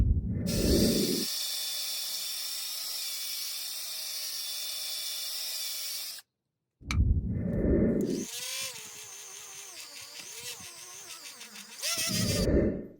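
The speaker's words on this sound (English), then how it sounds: "put this into any kind of drill and then insert it in here, and that will do it" A power drill with an attachment whirs inside a rusty bronze valve. Loud high whining runs in bursts, with a short break and a rougher, changing grind near the end.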